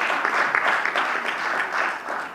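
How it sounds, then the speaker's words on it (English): Audience applause at the inaugural session of an India–United States partnership event, a steady, fairly distant wash of many hands clapping that holds evenly throughout. "give both of them a really big round of applause"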